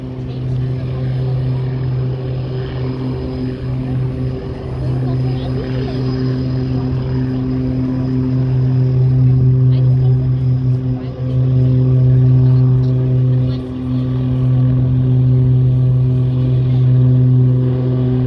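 A big turboprop aircraft powers up into the wind for takeoff, its engines droning in a loud, steady tonal roar that swells and holds throughout, with voices talking over it.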